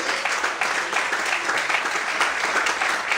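A church congregation clapping together during a Portuguese-language worship sermon, a steady close wash of applause that holds evenly throughout with no voices over it.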